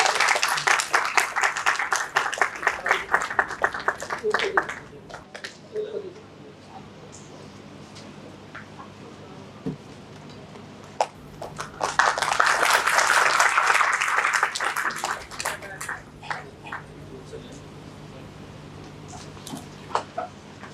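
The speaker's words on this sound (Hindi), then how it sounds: "आप सभी से अनुरोध है, तालियों के साथ स्वागत कीजिए।" An audience at a literary festival in Varanasi bursts into welcoming applause, fades to quiet murmuring, then claps again loudly for several seconds before trailing off into scattered claps.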